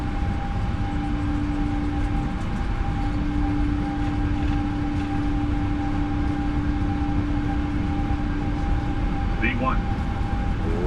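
Steady, loud roar of Boeing 777 engines at takeoff power in a flight simulator, a constant drone with a sustained tonal hum throughout and a brief chirp near the end.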